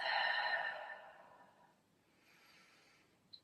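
A long, soft exhale during a shoulder-focused yoga session, breathy and fading over about two seconds, followed by a quieter second breath and a small click near the end; no talking.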